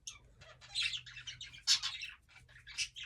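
Pet budgies chirp and twitter close by in a quick, bright series of calls with a low steady hum underneath.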